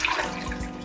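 Half a cup of water pours into a blender over soaked dates for a chocolate peanut butter cup filling, a brief close splash and trickle with no one speaking.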